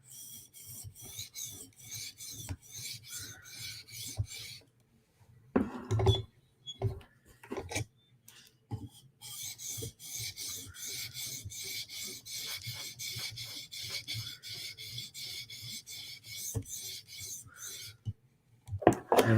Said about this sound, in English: Do one last pass. Reduce the burr size, lightly touching.